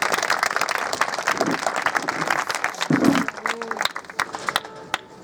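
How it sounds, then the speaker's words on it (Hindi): A church congregation at a Lent service claps loudly after a praise and worship set, the dense applause thinning and fading out into scattered claps and room noise over several seconds. "इस सुंदर से प्रेज एंड वर्शिप के लिए हम जोर से ताली बजाएंगे।"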